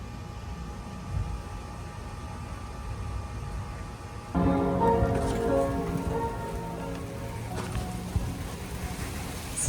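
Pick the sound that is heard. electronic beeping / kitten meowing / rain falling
rain falling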